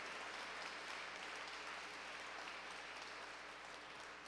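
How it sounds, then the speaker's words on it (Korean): Faint, distant, steady applause from the audience at the 2011 commemoration ceremony for the fourth anniversary of the 10.4 inter-Korean summit declaration, a continuous even wash of clapping with no voices above it. "다시 한번 감사의 박수 부탁드립니다."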